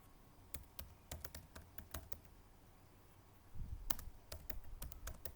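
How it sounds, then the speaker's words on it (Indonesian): A computer keyboard clacks as a command is typed during network switch configuration, with quick irregular close-up keystrokes and a brief busier burst near the end, no voices. "Kita ketikkan command interface"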